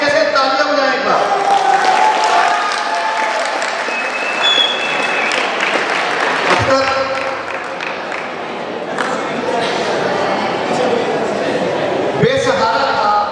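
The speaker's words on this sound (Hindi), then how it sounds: "जरा भरपूर तरीके से तालियां बजाएं एक बार।" An audience at a poetry recital (mushaira) at a science college in Lahore breaks into full, sustained applause, with crowd voices and talk mixed in.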